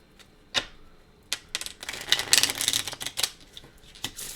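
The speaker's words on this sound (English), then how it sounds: "Let's shuffle again." Tarot cards being shuffled: a few sharp isolated riffles, then a denser run of crisp flutters and taps, close by and fairly quiet, with no talking.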